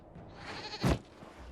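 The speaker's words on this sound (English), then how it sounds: "we discovered this man attacking the building with a goat" A goat in Dragon Age Inquisition gives one loud, close bleat that rises to a strong peak and quickly fades.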